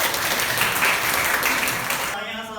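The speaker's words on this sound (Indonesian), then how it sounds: "Tepuk tangan untuk Kevin dan Tadi." An audience claps in a classroom practical session, dense applause that fills most of the clip before cutting off sharply near the end.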